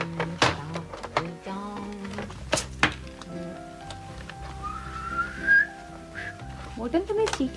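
A person whistles a string of short, clear tuneful notes indoors, broken by a few sharp knocks and clinks.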